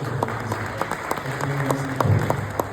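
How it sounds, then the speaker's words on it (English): Light, scattered applause from a small audience at a sleep apnea panel event, honoring the panelists; individual claps stand out over a steady low hum, moderately loud, no speech. "A big round of applause to all of you"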